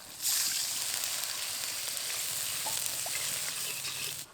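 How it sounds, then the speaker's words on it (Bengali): Spice-rinse water poured into sizzling masala for a pomfret curry, a steady loud hiss and bubbling fry filling the whole stretch with faint sloshing, no talk. "এবার এর মধ্যে মশলা ধোয়া জল দিয়ে দেবো।"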